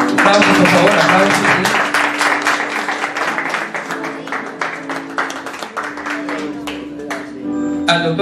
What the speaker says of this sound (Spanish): Aplausos, por favor, aplausos.